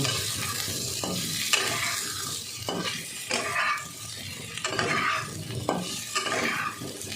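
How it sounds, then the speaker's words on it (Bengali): Boiled potatoes fry in a pan and are stirred, a steady sizzle broken by repeated scraping strokes and light clinks of a utensil, close up with no talk. "এবার আলুগুলো ভালো করে ভাজা করব।"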